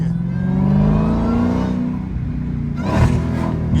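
A Dodge Hellcat engine revs hard on the street, its loud droning roar rising and easing through quick downshifts, with a sharp burst of revving near the end.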